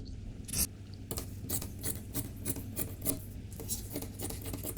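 Scissors snip and rasp through fabric while cutting out romper cups for a sewing pattern, a run of close, repeated cuts and rubbing strokes with a few louder snips.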